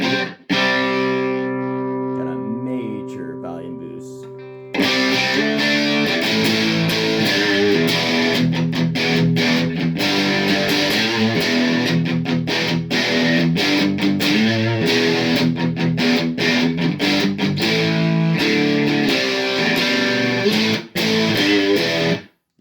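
Electric guitar played through an MXR Dookie Drive V4 overdrive pedal, a quiet clean-ish intro for a few seconds, then loud, dense distorted chords and riffs throughout with brief choppy stops.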